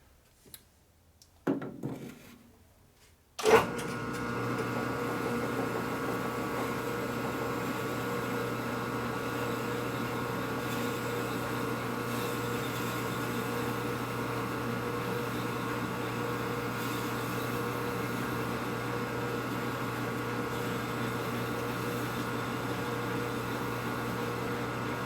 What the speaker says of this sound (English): The stone's starting to get the diameter, correct diameter now, so it's starting to hone a little better too.